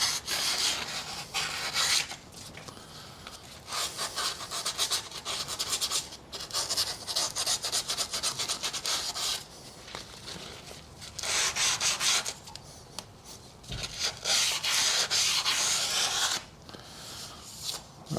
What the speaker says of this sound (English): I'm just going to clean off some of that corrosion that's left on this hub now. Just a bit of a wire brush off.